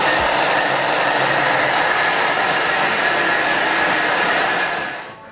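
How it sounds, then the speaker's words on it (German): A Thermomix purées raspberries at top speed 10, making a loud, steady whirring roar that fills the whole stretch before cutting off at the end. "Und das Ganze wird jetzt wieder püriert auf Stufe 10. Dieses Mal allerdings eine Minute. Das wird jetzt laut."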